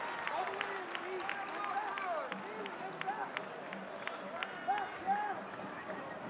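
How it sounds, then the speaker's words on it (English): Stadium crowd at a Louisville City FC versus Detroit City FC soccer match applauds a substituted player leaving the field, a broad steady wash of clapping and crowd noise with whistles and a commentator talking over it. "Well-deserved applause."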